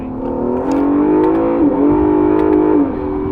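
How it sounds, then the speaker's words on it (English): Large American land yacht car accelerating hard in second gear from about 40 mph, engine note climbing steadily with a brief dip mid-pull, heard from inside the cabin. "And if I boot it in second gear at 40,"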